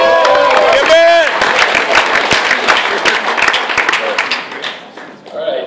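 An audience claps and cheers for a comedian at an open mic night, a loud, dense burst of applause mixed with crowd noise that thins out toward the end, with a voice shouting over the start.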